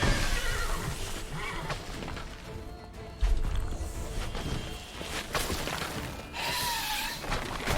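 A horse neighs and whinnies in The Witcher 3, loud against busy in-game ambience, with a sharp crash near the middle and a shrill whinny rising again toward the end.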